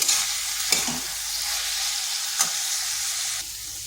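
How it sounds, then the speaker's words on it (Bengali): Kohlrabi with soaked mung dal and soybean stir-frying in a pan, a steady close sizzle with a few sharp scrapes of the spatula against the pan. "এটাকে বেশ কিছুক্ষণ এইভাবে ভেজে নিতে হবে, যাতে মুগ ডাল আর সয়াবিনের কাঁচা গন্ধটা চলে যায়"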